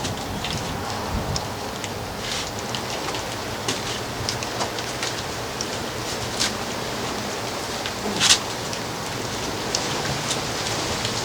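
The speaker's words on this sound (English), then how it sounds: "The rain is beginning" Rain begins falling outdoors at a boat workshop, a dense, even patter of drops on surfaces, steady throughout with one brief louder splash near the end.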